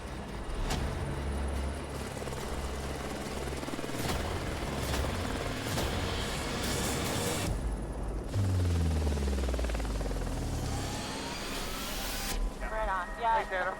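A helicopter hovers and lands on a small logging pad in timber country, its rotor thump and engine roar loud and continuous, shifting in pitch as it settles, with radio chatter and voices mixed in.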